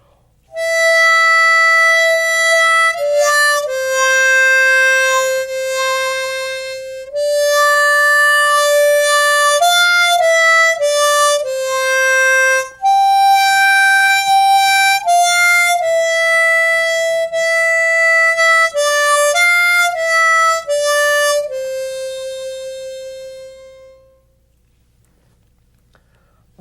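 A harmonica plays a slow, sustained melody of long held notes with short breaks between phrases, loud and close, with a clear, bright tone that fades out near the end.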